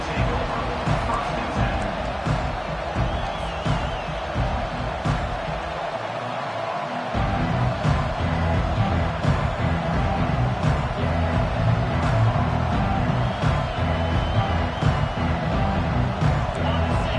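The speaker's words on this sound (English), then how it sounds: "This crowd bringing an ear-splitting welcome to their visitors." Stadium crowd at a college football game in NCAA 25 roars continuously for the whole stretch, loud and dense, with a brief dip in the low rumble before it swells again; commentary voices run over the noise.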